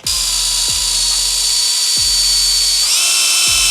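A power drill pre-drilling wood whines steadily at high speed, close and loud, its pitch shifting briefly near the end, with a few dull knocks beneath.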